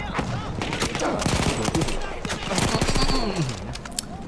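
Gunfire in the game Battlefield 1, dense overlapping shots and explosive booms mixed with excited voices talking over the din.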